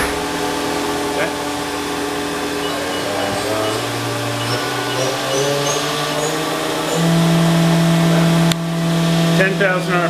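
A 2018 Haas VF4SS CNC mill spindle runs with through-spindle coolant, giving a loud steady mechanical whine and hiss whose tone steps up in stages, with a voice talking over it.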